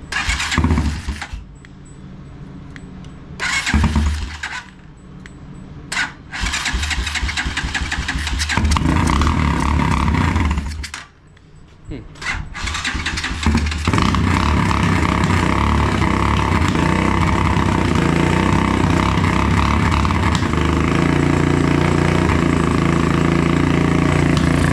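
A motorcycle engine after a tune-up and brake adjustments, with a fuel-delivery problem, cranks and catches several times with short gaps, then settles into a loud, steady run for the rest of the clip.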